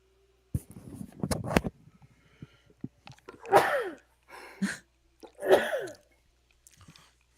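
Two close sneezes a couple of seconds apart, preceded by some clattering and handling noises at the start.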